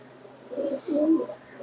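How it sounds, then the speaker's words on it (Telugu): A pigeon gives two soft, low coos in quick succession, close and fairly quiet against a still background. "ఈ పావురం అయితే మరీ వింతగా ఉంది కదా"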